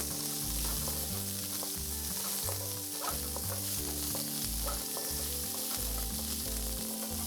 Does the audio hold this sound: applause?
no